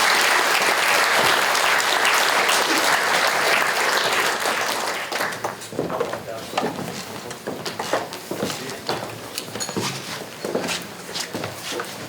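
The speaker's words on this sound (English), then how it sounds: "round of applause for all our candidates as they leave." A crowd gives loud, sustained applause for candidates leaving the stage at a Chamber of Commerce candidates' breakfast; the clapping thins after about five seconds into scattered claps with shuffling footsteps.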